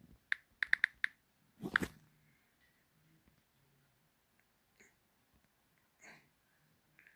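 A few quick bursts of typing on a computer keyboard, clicky keystrokes in short clusters separated by near-silent pauses, with a faint sniff or breath between them.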